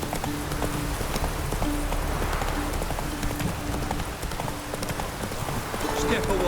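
Roach, Geralt's horse in The Witcher 3, gallops with steady clip-clop hoofbeats over a constant wash of rain, while a voice speaks over the top.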